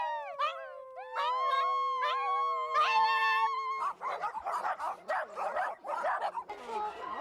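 Several dogs at an animal shelter, close by, howling in long rising wails and then breaking into a rapid run of barks and yips.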